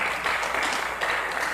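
A church congregation applauds in a brief, dense burst of clapping with no voices over it.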